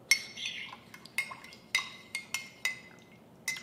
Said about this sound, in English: make sure it's stirred properly because nobody likes chunks of whatever this is to come in here